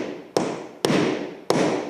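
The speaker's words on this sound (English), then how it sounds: "knocked the last bit in with a punch just to sink it" A metal nail punch struck three times with a hammer, sinking a nail below the surface of a wooden floorboard during secret-nailed floor laying; sharp, loud, evenly spaced taps with short decays, no talking.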